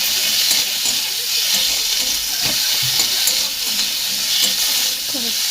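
Garlic, green and dried chilies, onion and tomato fry together in a pan, giving a steady, close hiss and sizzle with faint stirring scrapes throughout.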